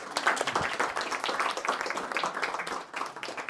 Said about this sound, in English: Maybe we can also give an additional round of applause to our lovely moderator.